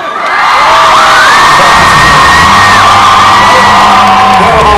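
Concert crowd roaring with whoops, yells and cheers, a loud sustained wall of voices filling the space with clapping blended underneath, continuous throughout without a break.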